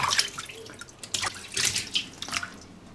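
Pig trotters are rinsed under running tap water in a kitchen sink, giving uneven splashes and gurgles that rise and fall close by.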